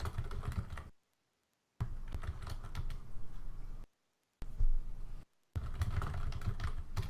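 Computer keyboard typing in bursts during a paused StarCraft tournament match, with clustered clicking keystrokes interrupted by two short silent gaps.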